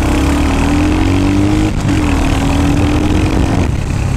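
A Royal Enfield Hunter 350 motorcycle's engine drones loud and close while it is ridden on a test ride, holding a steady low thump with a rising pitch that drops once and climbs again, alongside wind rush.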